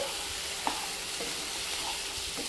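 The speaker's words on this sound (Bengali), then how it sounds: "এবার আমি ভালো করে কষিয়ে নেব" Chicken gravy masala being sautéed on a low flame in a pan, a soft continuous sizzle with occasional scrapes of the spoon stirring, close and steady.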